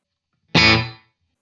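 One electric guitar chord played through a Line 6 DL4 MkII with reverb set to a short decay hits sharply and cuts off quickly, dying away within half a second.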